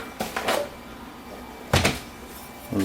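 A drawer is opened and rummaged to get a wooden spoon out while making blueberry and mango crepes, giving a few short clattering knocks and slides, close by, in two bursts with a quiet pause between.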